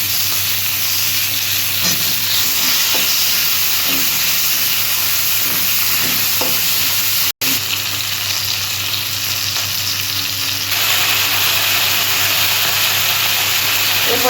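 Tomato dropped into hot oil for a fish curry sizzles loudly and continuously at close range, with steamy hiss and occasional stirring clicks, over a steady low hum and a brief dropout midway.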